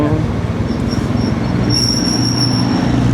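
A train at Mandalay railway station rumbles steadily with a low rolling drone and high, sustained wheel squeals, loud and close throughout with no talk.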